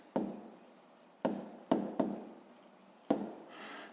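Marker or chalk strokes on a board, in five distinct bursts: sharp taps and short scratchy scrapes spaced irregularly, close and fairly loud with no talking.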